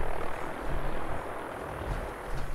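A helicopter arrives in the Fallout 4 video game, its steady rotor thump and engine roar filling the scene at constant, fairly loud level without any talking.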